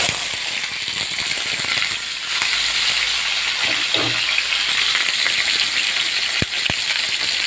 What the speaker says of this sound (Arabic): انا بحب اشوح البطاطس وبديها صدمه